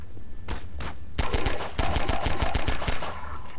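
SMG fire in the Half-Life 2 leaked beta game: a short burst of shots, then a longer rapid automatic volley of sharp cracks, loud and close.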